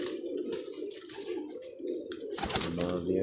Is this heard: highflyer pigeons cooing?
yes